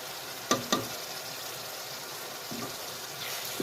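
Garlic fries in a pan for an Ethiopian pea fitfit, a steady soft sizzling hiss broken by a couple of quick stirring knocks early on, with no talking.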